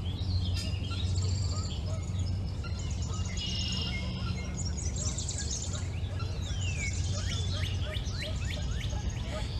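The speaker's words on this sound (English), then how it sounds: "What bird is making that call?" Several birds call outdoors, with repeated chirps and short trilling phrases scattered over a steady low hum, moderately distant and continuous.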